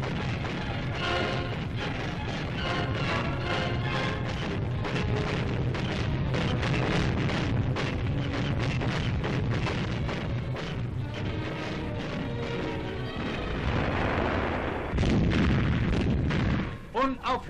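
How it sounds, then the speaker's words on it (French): Archival wartime film sound of a V1 flying bomb over southern England with anti-aircraft flak fire: a dense, loud, continuous roar broken by rapid repeated bursts and booms, ending in a few sharp cracks. "Unaufhörlich zehren das Geräusch der Bombe und das Schießen der Flak an den Nerven der Engländer."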